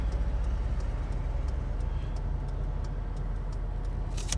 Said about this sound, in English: That's that old truck.